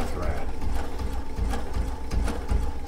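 A Baby Lock Sashiko quilting machine stitches steadily with a fast, even mechanical whir and rhythmic clatter, loud and close throughout the short stretch.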